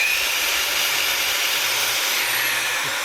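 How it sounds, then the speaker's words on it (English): A Makita power drill runs steadily without pause, a close, even whine with broad hiss, used while fitting a DIY wooden floor in a LandCruiser 78 Series. "just start it a few times. Get used to the torque of the Makita."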